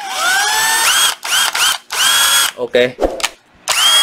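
A cordless screwdriver, a used Japanese import, whines through several revving bursts whose pitch climbs and settles as the speed is varied, then stops and reverses, with brief ratcheting rattles in the gaps and a single short spoken word.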